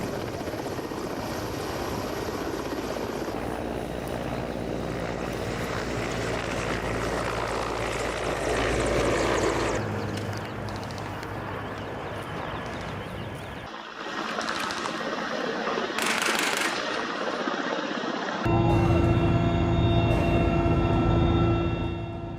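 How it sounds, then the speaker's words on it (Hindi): An MI-17 military helicopter flies during an India-Australia army exercise, its loud, continuous rotor and engine roar rising and shifting, with a sustained turbine whine toward the end. "देखिए कैसे MI-17 हेलीकॉप्टर से जवान वॉर जोन में उतरते हैं"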